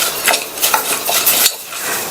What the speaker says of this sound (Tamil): இந்த குக்கர்ல சேர்த்துட்டு 2 நிமிஷத்துக்கு மட்டும் மிதமான தீயில வச்சு இந்த பாசிப்பருப்பை வறுத்துக்கங்க.